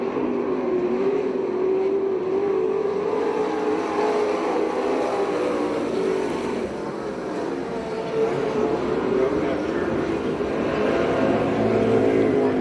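PASSCAR stock cars race at Perris, California, their engines a continuous broad roar that swells and fades slightly as the pack passes.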